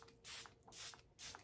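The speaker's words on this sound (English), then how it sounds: "let's go ahead and use this CoverGirl Nourishing Milk Spray" CoverGirl Nourishing Milk setting spray is misted onto a face in three quick, soft hissing bursts, evenly spaced and close to the microphone, with quiet gaps between them.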